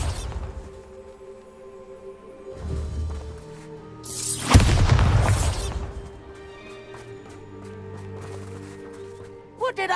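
The Bombarda explosion spell cast in the video game Hogwarts Legacy, bursting as a loud crashing blast lasting over a second amid ambient game sounds and music.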